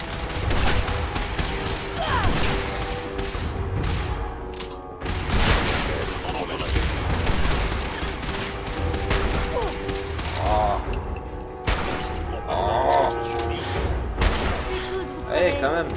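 Dense bursts of gunfire and mechanical clatter in the video game Fallout 4, with repeated shots and booms mixed under game audio; people talk throughout.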